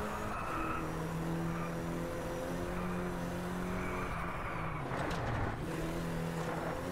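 A racing car engine in Driveclub drones at high, strained revs after a dropped gear, holding a steady harmonic whine, then dipping and surging with a tyre-scrub rush near the end.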